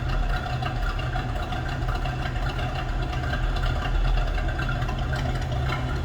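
A 1958 Chevrolet Corvette convertible engine idles evenly at close range, a steady, rumbling, deep continuous drone with no revving and no voices.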